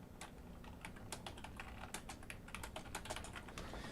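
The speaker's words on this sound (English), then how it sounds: "I'll type it in here." Rapid, irregular typing on a computer keyboard, with quick clusters of close, crisp key clicks that carry on steadily for several seconds in a quiet room, no voices over them.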